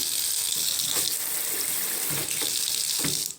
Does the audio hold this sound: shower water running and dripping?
yes